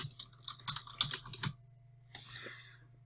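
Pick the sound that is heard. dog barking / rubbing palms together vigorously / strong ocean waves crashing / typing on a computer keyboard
typing on a computer keyboard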